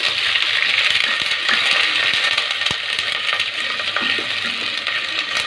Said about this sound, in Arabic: بعد ما حمرت الثوم كده في السمنه هنزل بقى بطشه الخل.